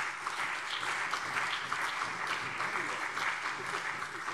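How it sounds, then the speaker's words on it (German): Applause in a German state parliament plenary session, a fairly steady patter of clapping across the chamber for a few seconds, with some voices mixed in underneath. "Applaus"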